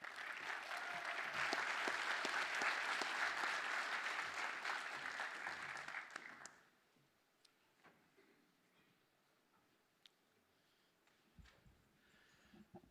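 Audience applause welcomes two poets at an eco-poetry and environmental justice forum, a dense, steady clapping for about six seconds that fades out. Near-silence follows, with a few faint ticks and rustles.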